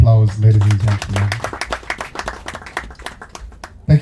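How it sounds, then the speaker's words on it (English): Applause from an audience at the opening ceremony of a regional NGO expo and winter school: steady clapping continues beneath a speaker's amplified voice, then tapers off. "Another round of applause, ladies and gentlemen."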